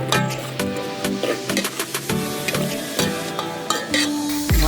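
Masala spices fry in a pan for egg biryani, a steady sizzle with scraping stir strokes and clinks of a utensil against the pan, close and fairly loud, with no talk over it.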